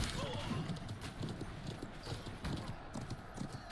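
Horse hooves clip-clop in a steady rhythm in a multiplayer video game, the close thuds running beneath a voice and other game sounds.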